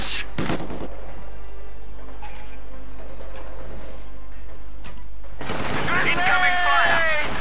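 Gunfire and explosions in a World War II strategy game with Soviet Osttruppen infantry: sharp bursts and a heavy blast early on, then sporadic shots, with voices and busy battle noise building loudly near the end.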